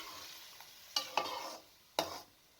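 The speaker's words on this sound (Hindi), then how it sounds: "चम्मच अच्छे तरीके से हिलाएं" A spoon stirs boiled rice and melted sugar in a pot, giving a few distinct scraping strokes, quiet and close, with no one talking.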